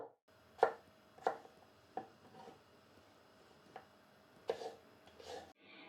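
Sharp knife chops through potatoes on a cutting board, dicing them into small cubes, about eight separate cuts at an uneven pace with quiet pauses between them, close by.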